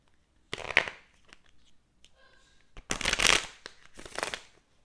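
Playing cards shuffled by hand in a quiet room, heard as several short crisp riffling bursts with pauses between them.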